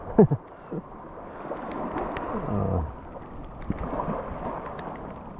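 Rain and splashing sea waves during a storm near Adam's Bridge off Sri Lanka, heard as a continuous broadband wash with a few louder splashes near the start, fairly close and steady throughout.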